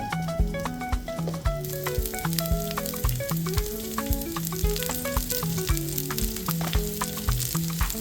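Broccoli sizzling and crackling in a hot oiled skillet, a close, continuous frying hiss with popping spatters and occasional stirring clatter, no voices.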